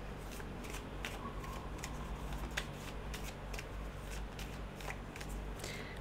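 Tarot cards shuffled by hand in a steady, continuous run of soft riffling and rubbing, with sharp little snaps and clicks scattered throughout, close and fairly quiet, with no talking.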